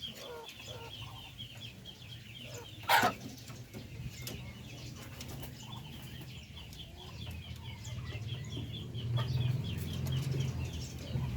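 Native Filipino hens clucking softly while eating feed, scattered low clucks and chirps close by over faint outdoor background, with one brief louder knock.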